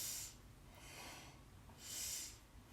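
Slow, deep breaths during a seated yoga spine warm-up before meditation, a soft hissing inhale and exhale cycle repeating twice, close and quiet with no talk.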